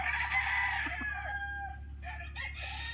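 A black Boston Dome stag rooster crows close by, one long drawn-out call that fades, followed by a few shorter clucks over a low steady hum.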